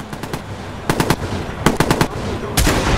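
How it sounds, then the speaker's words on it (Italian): Rapid gunfire in the Watch Dogs video game, with several short bursts of automatic shots cracking in quick clusters over a low background bed, loud and close. "Ci sparano, ci sparano!"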